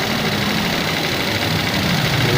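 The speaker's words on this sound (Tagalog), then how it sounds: "andarin na natin, pina-start na natin nangyari" A payloader's engine runs steadily after starting, a dense, even mechanical drone with low rumble and constant loudness, close by with no voices over it.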